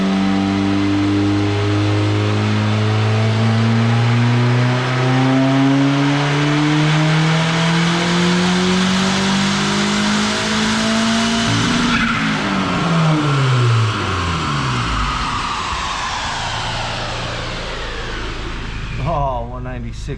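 A car engine revving through a horsepower run, climbing steadily in pitch as a loud sustained roar, peaking and dropping away, then spinning back up at the end, with voices faintly under the noise.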